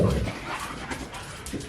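A pet dog worked up with the zoomies lets out a loud yip at the start, then gives softer whimpery yelps against a steady indoor background.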